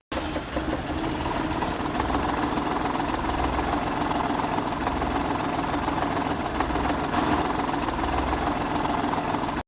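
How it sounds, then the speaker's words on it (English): A car engine idles steadily with the heater fan on max, producing a continuous, close, even drone with a faint mechanical rattle and no gaps for the whole stretch. "start your engine with the heater on max"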